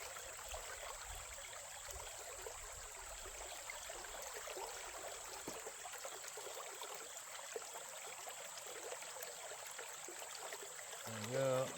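Water flowing through a gold prospecting sluice box: a faint, even stream-like trickle and wash continues throughout, with a steady high whine behind it and a brief louder burst at the very end.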